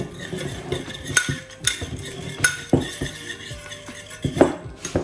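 Whole spices being stirred with a utensil in a dish, giving repeated clinks and scrapes of metal against cookware at an irregular pace, close up and clear with no talking.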